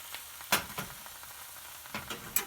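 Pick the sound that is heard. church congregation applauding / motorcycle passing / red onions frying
red onions frying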